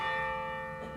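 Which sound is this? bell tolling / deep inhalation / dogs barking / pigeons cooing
bell tolling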